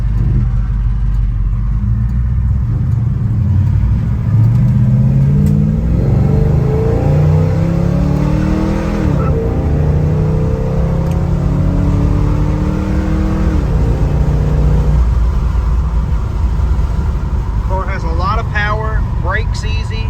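A 1967 Chevrolet Chevelle SS 396 V8 revs loud and close, its rumble climbing and falling through several throttle blips before settling back, with someone talking now and then.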